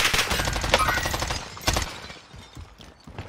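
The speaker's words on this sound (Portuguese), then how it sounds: "Eu tô tomando um tiro de trás." Rapid gunfire in the Valorant shooter game, a dense burst of shots up close that thins into scattered, fainter pops and clicks over a few seconds.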